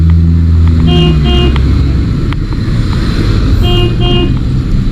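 Cars passing close on a road, a loud continuous roar of traffic with a couple of short horn toots.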